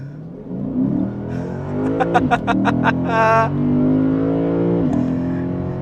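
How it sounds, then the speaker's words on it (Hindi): A Lexus IS 500 F Sport V8 revs hard, rising in pitch, then gives a burst of sharp throttle blips and a snarling rev before settling into a steady loud drone, close and alone with no talking. "Nothing beats the noise of a V8."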